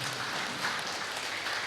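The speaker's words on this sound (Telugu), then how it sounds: "బ్రహ్మర్షి పితామహ పత్రిజీకి ఒకసారి గట్టిగా చప్పట్లు కొడదాం." A crowd at a Guru Purnima celebration in Bodhan claps together in a continuous, even patter of applause that sounds somewhat distant and fairly soft, with no talking over it.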